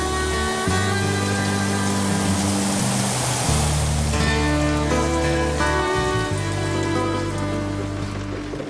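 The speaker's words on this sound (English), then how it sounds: "The rain came down in torrents." Steady broadband rushing like heavy rain pours throughout, mixed with sustained musical tones that shift in pitch.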